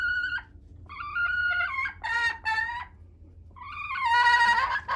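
Nugget, a pet chicken, clucks and squawks in her coop in several bursts, loud and close with short pauses between calls.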